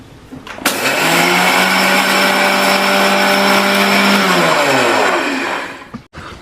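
A mixer whirs loudly and steadily for several seconds as it blends butter and sugar into cream for a homemade Oreo biscuit cake, starting abruptly, running near and alone, then winding down and clicking off.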